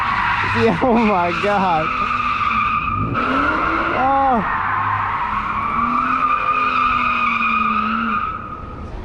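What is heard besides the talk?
Nissan 350z doing donuts, tires skidding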